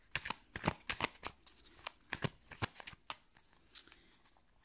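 A deck of tarot cards being cut and riffled during a reading, giving a series of crisp, close papery flicks and snaps in an irregular rhythm with quiet gaps between them.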